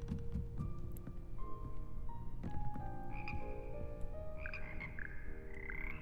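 Frog choir in the Hogwarts Legacy music classroom croaking in layered, sustained tones at several pitches, a continuous chorus of overlapping notes that grows fuller and higher partway through.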